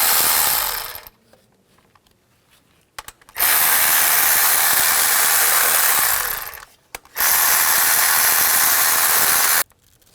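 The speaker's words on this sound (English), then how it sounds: "Use a 12mm socket, take these 2 nuts out and the rest of the bolts." A tool running on nuts on a 2003-08 Nissan Maxima whirs loudly in two long bursts of a few seconds each, separated by near silence with a couple of brief clicks.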